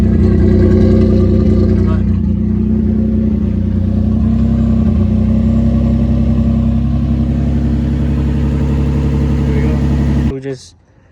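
A single-turbo Infiniti G35 with a header-dump exhaust idles loud and close, a deep rumbling drone that holds steady before cutting off abruptly near the end with a brief rattle.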